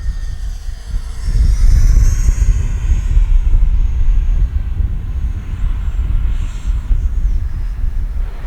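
A Freewing F-35 70mm electric ducted-fan RC jet makes a low pass with its landing gear down. Its loud whooshing roar swells in after a second and holds strongly, with some wind buffeting on the microphone.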